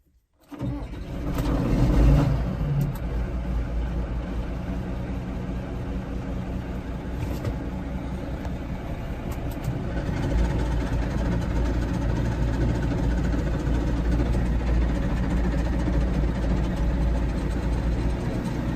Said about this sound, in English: Gonna let it sit here and idle up for just a second, guys.